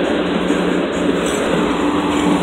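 A CSX 3124 freight train rolls through Altamont, Illinois, as a steady, loud, broadband rumble with a continuous rail hum that holds level for the whole stretch, close by and with no voices.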